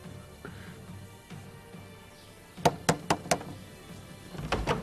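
Someone knocks on a wooden door in a historical drama: four sharp raps in quick succession partway through, then a faint rumble, over a quiet murmuring room background with no clear speech.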